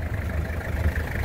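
A Toyota HiAce diesel engine idles steadily just after a cold start, a low continuous rumble heard close by over a brief moment.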